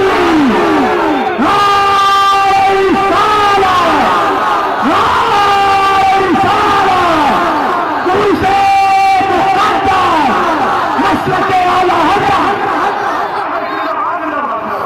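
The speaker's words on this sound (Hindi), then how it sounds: "बुलंद आवाज से नारे तकबीर" A large crowd at a naat gathering loudly answering a Takbir call, many voices shouting together in a sustained, echoing roar with overlapping cries throughout, close and dense.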